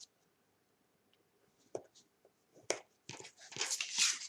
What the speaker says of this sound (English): Now I'm going to score these little tabs here